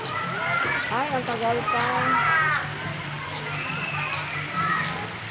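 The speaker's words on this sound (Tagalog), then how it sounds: "Pinupuno niya yung timba." Water runs and splashes into a bucket beside a swimming pool at a resort in Antipolo. The flow sloshes steadily beneath a voice, with children heard in the background.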